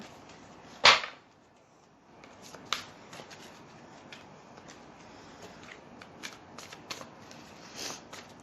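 Tarot cards being shuffled in quick riffles and soft flicks, one sharp riffle near the start followed by lighter, scattered shuffling sounds, close and quiet.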